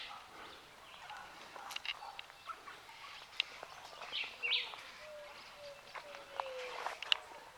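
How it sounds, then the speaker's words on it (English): Birds feeding in a tree in Jamaica give scattered, fairly faint chirps and short calls over a soft outdoor background, with brief high tweets popping up irregularly. "See bird feeding them, you know."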